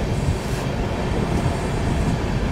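The Durg–Nizamuddin Humsafar Express passenger train runs on rails near the Khongsara ghat section, a loud, steady rumbling roar of wheels and carriages close by, with no voices.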